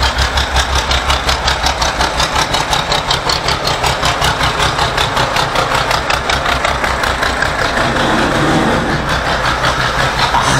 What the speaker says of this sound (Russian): Ребята, здесь какой-то трактор ездит